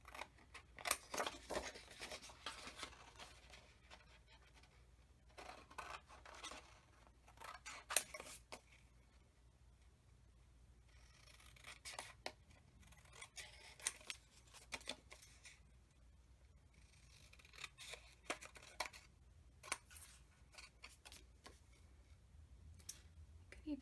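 Scissors snip through a paper strip to make a small journaling box, a long string of quiet, close, irregular cuts with short pauses between them.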